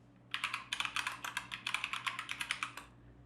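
Quick, steady keystrokes rattle on a computer keyboard as a database statement is typed, a close run of about twenty crisp clicks over three seconds, alone with no voice.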